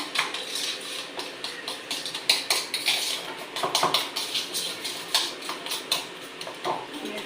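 A spoon clatters and scrapes against a bowl in quick, uneven strokes while mashed potato masala is mixed with chopped coriander, close and fairly loud, with no voices.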